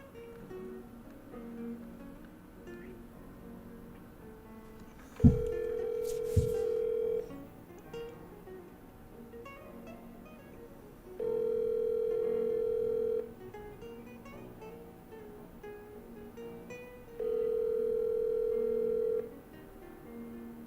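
A telephone call being placed: a brief burst of dialing tones, then three steady ringback tones, each about two seconds long and spaced roughly six seconds apart, heard alone over a faint background.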